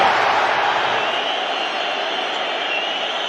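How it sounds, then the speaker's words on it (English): The Anfield football crowd roars and shouts at a match, a broad, sustained wash of massed voices that holds steady and loud throughout. "The Anfield crowd trying to alert Gakpo to that."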